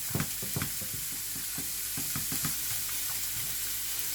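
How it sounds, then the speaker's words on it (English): Onions fry in a pan with a constant bright, steady sizzling hiss, with a few soft knocks and scrapes near the start. "So so we'll keep those sizzling."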